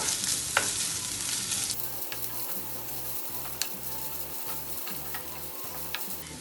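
Coconut pieces frying in hot coconut oil for Pesaha appam (Indri appam) give a steady close sizzle, with a run of soft rhythmic stirring knocks from the pan partway through.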